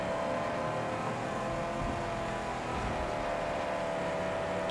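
V8 car engine labouring in the Mad Max video game, a steady, dense droning roar that holds at a constant strain without clear revs, loud and continuous with no voices.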